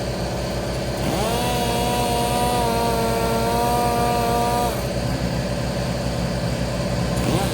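A power sander runs against the top side of an LS V8 engine block, a steady high-pitched motor whine with harmonic tones that starts abruptly around one second in, holds, then shifts near the end over a constant loud grinding roar.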